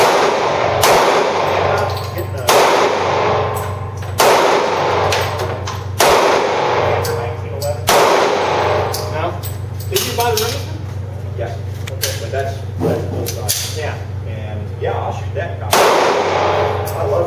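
Repeated gunshots at an outdoor shooting range, fired with handguns including a 9C concealed-carry pistol, land as loud sharp cracks at roughly two-second intervals, with people talking and a steady low hum running underneath.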